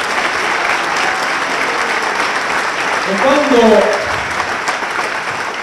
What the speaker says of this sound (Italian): è facile ricevere l'applauso su queste cose